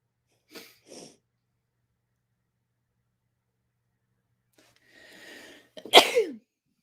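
A single sharp sneeze comes near the end, preceded by a couple of faint breaths and a soft rustle in an otherwise quiet room.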